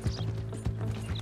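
Horse hooves galloping in Red Dead Redemption 2, quick rhythmic clip-clop beats over a low steady game hum, with a faint mechanical rattle in the mix.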